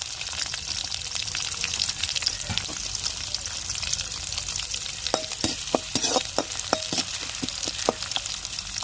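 Curry leaves and onions hit hot oil in a pan, with a steady frying sizzle and scattered sharp crackles and pops from about five seconds on, no talking.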